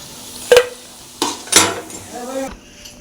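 Spinach fritters (bora) cook in hot oil, with a few sharp metal clanks and scrapes of a slotted spoon against the pan rising over a soft background sizzle.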